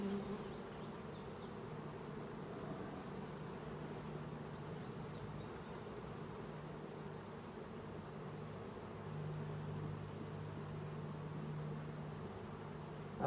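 Honeybees from package colonies buzz steadily around an open beehive as supers are added, a continuous close insect drone that stays level throughout without any voices.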